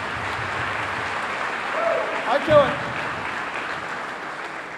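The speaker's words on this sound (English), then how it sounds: "Now we can clap." Audience clapping at Louisiana Tech's 2013 football Signing Day luncheon, a steady wash of applause for the offensive coaching staff lasting several seconds, with a voice breaking in briefly over it.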